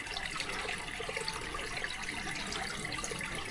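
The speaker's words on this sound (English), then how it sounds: "Might even be almost like a spring coming out of the rock up there." Spring water spills out of rock in Shenandoah National Park, making a steady, close rushing and babbling flow that stays even throughout with no pauses.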